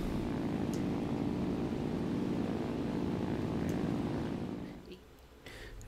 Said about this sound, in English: Now this plane, because it's so light, the engine will rock.